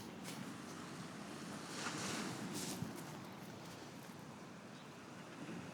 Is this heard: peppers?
no